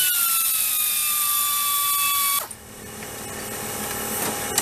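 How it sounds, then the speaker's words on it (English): A power tool removes the lower alternator bolts on a Ford 4.6 engine, its loud, high whine gliding slightly downward before cutting off abruptly, followed by quieter tool and metal handling noises. "Remove these 2 bolts on the lower part of the alternator."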